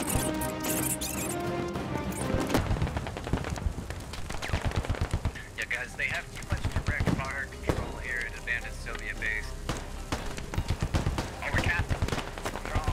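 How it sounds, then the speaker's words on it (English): Rapid suppressive gunfire from Squad, with dense clusters of sharp shots fired toward a silo entrance, fairly close and repeated throughout, while people talk over it. "lay suppressive fire on the entrance of the silo"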